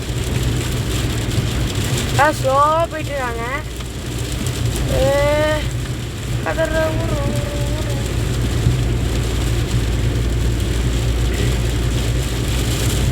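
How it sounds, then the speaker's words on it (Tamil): Heavy rain drums steadily on a moving car in Salem, India, heard from inside as a constant wash of noise. Voices briefly rise above it early on. "சேலம்லேயே இவ்வளோ மழை சூப்பர்."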